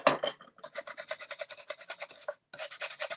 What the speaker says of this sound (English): I think I'll just get my little sanding pad if possible.